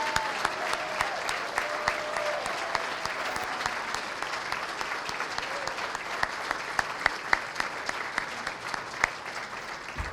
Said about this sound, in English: everyone give them a nice round of applause.